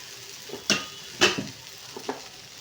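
Tempering spices hit hot oil in a pan, giving a few sharp crackling sizzle bursts and short stirring scrapes, close and fairly quiet between the pops.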